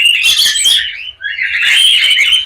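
A male cockatiel gives loud, close, shrill chirps in two bursts, a rapid twittering run followed after a brief pause by a longer sustained squawking call.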